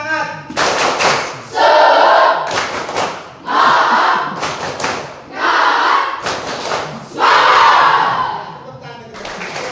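A classroom of students doing a rhythmic spirit clap, loud bursts of group clapping in repeated patterns with shouted chants between them, close and energetic.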